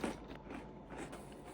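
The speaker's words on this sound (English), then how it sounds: "My chewing is too loud." Cereal is chewed close to the microphone in a quiet room, giving soft, wet crunching bites in an irregular rhythm with no talk.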